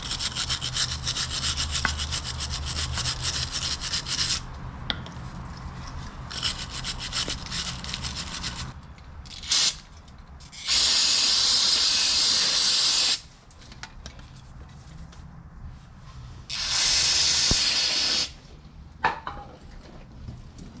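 Brake lube sprayed in several long bursts onto car brake parts during a front and rear brake job, loud steady hissing spurts separated by quieter workshop background.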